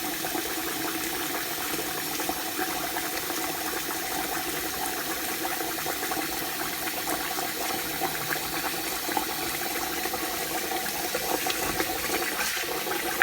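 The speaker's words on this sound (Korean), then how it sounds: "자, 물 이렇게 부어지죠." Tap water pours steadily from a kitchen sink faucet into a pressure cooker, a continuous even rushing and splashing that holds at a moderate level throughout with no voices.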